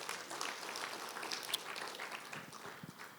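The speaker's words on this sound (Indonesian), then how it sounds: "Boleh kita beri tepuk tangan yang" A church congregation applauding during a worship service, scattered clapping that is moderately faint and fairly even, with a few sharper claps and low thuds near the end.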